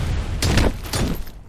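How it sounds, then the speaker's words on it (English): Two heavy explosions boom in quick succession during combat in the video game RoboCop: Rogue City, each a loud, rumbling blast that trails off. "Big ass explosions."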